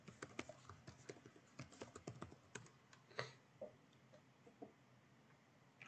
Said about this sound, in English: It will ask for my password, so I'll just type that in there.